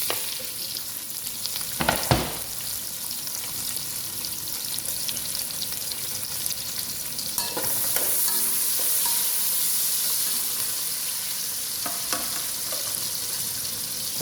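Chopped onion frying in a pan for biryani, with a steady, close, bright sizzle throughout, broken by a few sharp stirring clatters and no voices.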